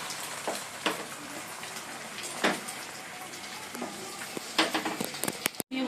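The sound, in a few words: two eggs frying together in a pan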